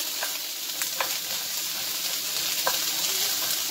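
Chopped bok choy sautés in a pan for a vegetable stir fry, a steady close sizzle punctuated by a few sharp clicks of a wooden spoon against the pan.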